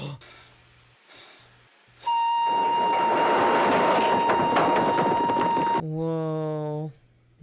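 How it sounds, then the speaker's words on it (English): A train crash in the 1969 western film Butch Cassidy and the Sundance Kid: a long, loud roaring rumble with a sustained whistle-like tone, preceded by quieter rumbling and followed by a voice speaking. "Train crash."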